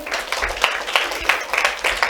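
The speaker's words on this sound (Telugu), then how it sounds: "ఒకసారి క్లాప్స్ కొట్టండి" An audience at a VBS puppet show claps, a short burst of uneven, fairly close handclaps mixed with voices.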